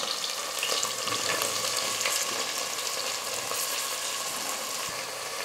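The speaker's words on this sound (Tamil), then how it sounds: "3 பெரிய வெங்காயம் எடுத்து நீல வாக்கல் கட் பண்ணிக்கிட்டு இந்த வெங்காயம் சேர்த்துக்கிறேன்." Three large onions, sliced lengthwise, and green chillies sauté in hot oil in a pan for vegetable rice, giving a steady, close hiss and crackle of frying with occasional stirring scrapes.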